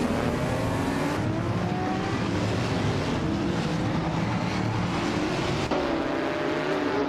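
A 2018 Toyota FT1 GTE race car in a racing video game roars steadily at Catalamo, its engine note climbing through the gears with brief shift breaks, loud and continuous with no voices.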